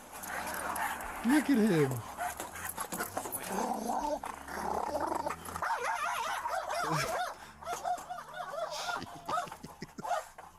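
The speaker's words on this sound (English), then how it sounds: "What a terrifying dog." A police dog barks, growls and whimpers in uneven bursts, close and agitated, mixed with people talking over and between the sounds.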